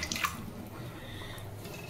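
Two eggs are rinsed under running water, a soft steady trickle with a few faint drips and light handling sounds close by, with no talk.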